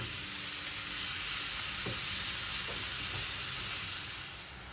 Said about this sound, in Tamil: நம்ம அந்த சூட்லேயே இதை நம்ம இப்படி கிண்டி விட்டுக்கலாம்